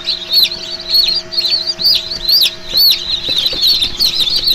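Many small chicks of the Adler silver breed peep continuously in high, rapid chirps inside a brooder, a dense overlapping chorus close by with a faint low hum underneath.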